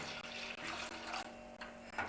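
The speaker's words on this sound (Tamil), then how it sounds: "தேங்காய் பால் ஊற்றிக்கலாம்" Coconut milk is poured into a pan for making milk kozhukattai, a soft, close liquid splashing and trickling in short uneven bursts.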